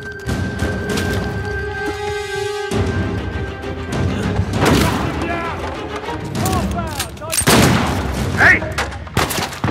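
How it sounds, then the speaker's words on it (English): Uncharted 4 gunfire in a chaotic firefight, with sharp shots, booms and crashes cracking through over several seconds amid shouting game voices and a background music drone. "Fucking guy taking shots."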